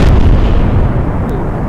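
Rocket engines fire at full thrust in a flight simulator game, making a loud, continuous, heavy roar with deep rumble that barely lets up throughout.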